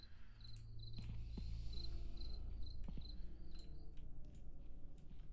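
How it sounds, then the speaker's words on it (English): Crickets chirp at night in a quiet, dark setting, a steady run of short repeated pulses over low background hum, fairly close and continuous throughout. "Can hear the sounds of the crickets chirping."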